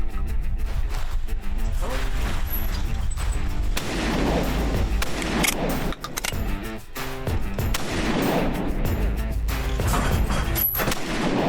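Shotgun fire on a sporting clays course, a dense run of loud gunshot-like reports and booms layered over continuous background music with no clear gaps between blasts.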